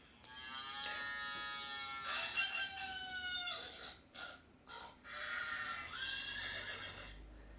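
Farm animal calls follow one another: a rooster crows cock-a-doodle-doo with long harmonic calls, and a horse neighs and whinnies with bright, shaky tones. The calls are loud and close, with brief gaps between them and no talking.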